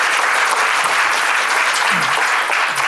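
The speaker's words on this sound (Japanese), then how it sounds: "皆さん盛大な拍手をご出してください。" Conference audience applauding at the closing of G1 Venture 2017, dense steady clapping from a large crowd filling the whole stretch at an even level.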